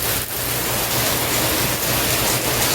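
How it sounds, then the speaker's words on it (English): Steady rain pours down outside on a wet morning, a dense, even hiss of falling water that holds at a constant level throughout with no talking. "Still raining."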